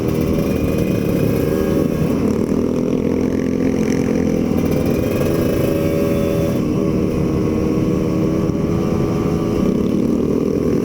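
Motorcycle fitted with a top box riding a touring route, its engine a steady, continuous drone close by throughout with slight shifts in pitch and no talk.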